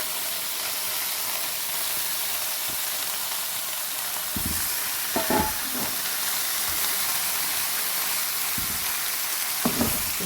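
Baby spinach stir-fries with garlic in a pan, giving a faint, steady sizzle and hiss with occasional knocks and scrapes from stirring.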